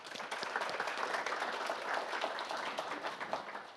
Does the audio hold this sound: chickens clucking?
no